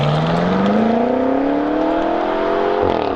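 A 2018 BMW M5 (F90) exhaust revs loud and close, its engine note rising steadily in pitch over a few seconds with a throaty rasp, no voices.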